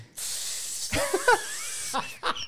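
A voice imitates the hiss of an empty spray can on a football pitch: a long, loud breathy hiss, then short bursts with laughter mixed in.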